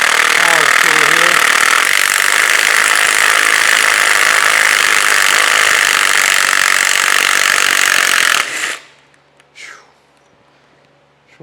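A small power tool backs a bolt out of a large cane mill during restoration, a loud, steady whining drone that runs for about eight seconds and then cuts off abruptly, leaving faint clicks and handling noise.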